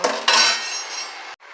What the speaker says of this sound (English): I'll be using a different spoon for each one to stir.